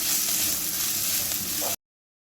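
Small shallots sautéing in a pan for a village-style egg masala curry give off a steady, close sizzle that holds evenly for almost two seconds, then stops abruptly. No voices.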